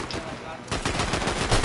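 Rapid SMG fire in the video game Fortnite, a dense continuous rattle of shots that grows heavier after a brief dip, loud and close, with speech faintly mixed in.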